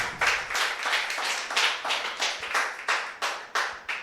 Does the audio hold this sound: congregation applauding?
yes